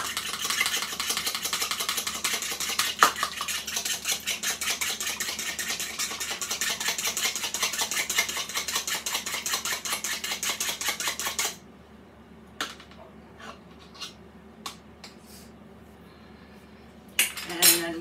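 A utensil stirs boxed cornbread mix in a bowl with rapid, regular scraping clicks for about eleven seconds, then stops, leaving a few scattered knocks and clinks.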